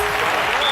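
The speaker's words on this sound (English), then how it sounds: "The crowd go wild and they respond." Crowd applause after a point is won in a match, a dense, loud wash of clapping that carries on steadily through the whole brief moment.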